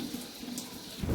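Soaked jowar grains being rinsed in water, a short bout of splashing and swishing that swells louder toward the end, with no voices.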